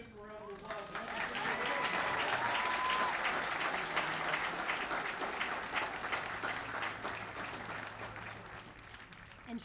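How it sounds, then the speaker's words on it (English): Audience at an Air Force basic military training graduation for the 326th Training Squadron applauds steadily, a dense sustained wave of clapping from a large crowd that swells and then slowly tapers. "Let's give them a round of applause."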